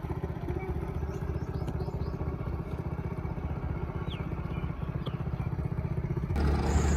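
A faulty motorcycle rattles over a rough, partly unpaved village road, its engine a steady close drone with clattering throughout, growing louder in the last moment.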